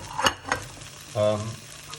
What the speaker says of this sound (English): and let it sizzle away briefly